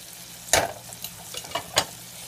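Spices cooking in a pan with tomato and onion for chicken biryani, giving a low steady sizzle broken by three sharp stirring scrapes at uneven intervals.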